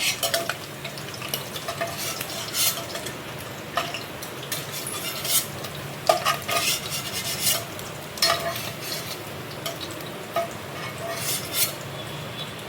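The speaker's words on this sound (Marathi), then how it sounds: "तेलामध्ये फ्राय केल्यामुळे छान अशी चरबी जी आहे ती फुलली जाते।" Mutton fat frying in oil with a steady sizzle, punctuated by repeated scraping and clinking of a utensil stirring against the pan, close and fairly loud throughout.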